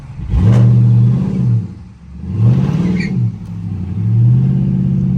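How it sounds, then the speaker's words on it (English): Dodge Charger R/T engine revving hard at full throttle during a launch-control start, three loud surging roars separated by brief dips, close and dominant with no talk. "To launch, press brake quickly and apply the full throttle"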